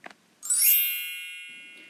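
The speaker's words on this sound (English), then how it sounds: "The shop bell rang. Ting-a-ling!" A shop door bell rings once with a bright metallic ting that lingers and slowly fades, heard alone and close with no voices.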